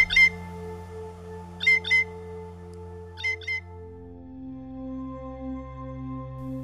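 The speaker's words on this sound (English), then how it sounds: "or the call of a blue jay." Blue jay calling in autumn in the north, three short paired squawks spaced over a few seconds, clear above a faint steady tonal background hum, with no talk.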